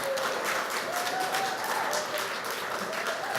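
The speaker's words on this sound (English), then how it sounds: "Give us applause for the winner of the pitch panel." An audience applauds the winner of a startup pitch panel, a steady wash of clapping with a faint voice or tone running underneath throughout.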